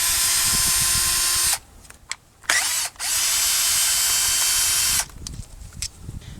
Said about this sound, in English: It's their M12 little, it's more like a drill, but it works pretty well for pulling stuff apart.